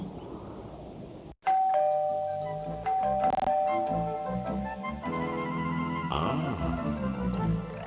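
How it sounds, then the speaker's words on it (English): A doorbell rings inside the 1996 PC fantasy game Kingdom O'Magic, a loud chiming ding-dong that rings out and decays over a steady game backdrop, with no speech. "Once again, my doorbell rings."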